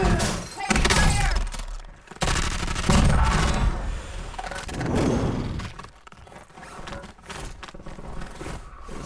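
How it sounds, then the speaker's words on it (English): Bursts of automatic gunfire from Call of Duty Warzone in a Verdansk battle royale endgame: loud, dense volleys that swell and fade in waves over the whole stretch, with brief quieter gaps between them. "Taking fire!"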